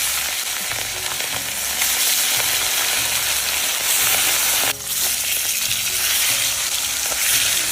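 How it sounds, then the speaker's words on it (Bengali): Katla fish pieces frying in hot oil in a wok over a wood fire, a loud continuous close sizzle with a brief dip midway as oil bubbles and crackles, no voices. "গরম হয়ে গেছে, মাছটা দিয়ে দিই।"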